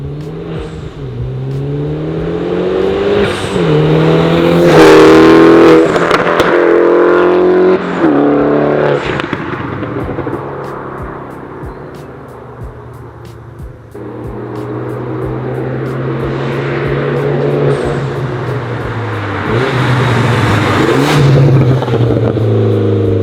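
A Mini Cooper R56 car is driven, its engine droning loud and close, revving up and down through gear changes with steady road and wind noise underneath.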